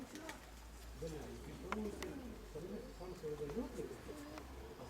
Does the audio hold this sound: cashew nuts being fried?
no